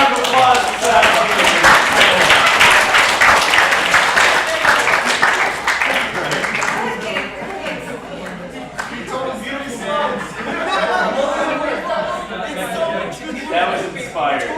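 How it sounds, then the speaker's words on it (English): A round of applause and clapping from a student game development club meeting, loud and dense for the first seven seconds, then thinning into scattered claps under chatter and talk from the room. "Round of applause for that."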